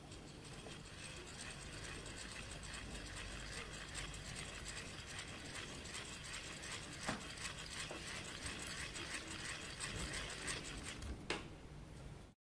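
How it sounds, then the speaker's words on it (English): A lever cranks a small electric motor used as a generator, making a continuous clicking, ratcheting mechanical whir that runs evenly for about twelve seconds with a few sharper clicks, close and steady before it stops abruptly. "we're going to use this lever to turn the motor"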